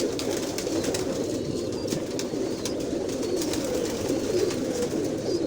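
An old Rampuri breeder pigeon, about fourteen years old, coos in a low, continuous rolling murmur that stays steady and close throughout, with no talk over it.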